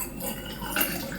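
Blix chemical being poured into a film developing tank, a continuous liquid trickle and splash, close and moderately loud with no talking.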